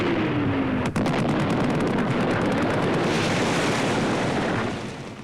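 Shooting on a hunt, with a sharp crack of a shot followed by a long dense barrage of rapid popping gunfire over a rumbling background, loud and sustained before easing slightly at the end.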